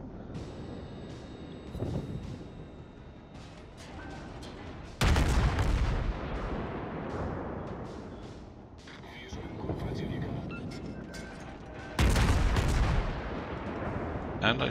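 Heavy naval gunfire from a Kirov cruiser in World of Warships: loud, booming broadside salvos with sharp onsets, two main blasts standing out over a continuous battle rumble and lighter distant shots.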